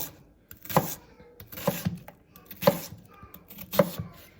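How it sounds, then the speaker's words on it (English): A knife coarsely chops a vegetable for satay chicken on a board, four distinct close thunks spaced about a second apart with quiet gaps. "turn it to the side and just chop along"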